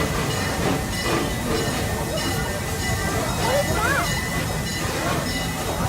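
Serengeti Express park train rolls steadily along its tracks, a continuous rumbling hiss with faint clatter throughout, while a narrator talks over it.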